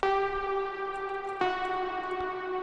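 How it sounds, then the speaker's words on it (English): A bright, buzzy synth lead preset from a Vital soundbank holds a sustained tone drenched in heavy reverb, with a second attack partway through, loud and alone. "That is the lead break."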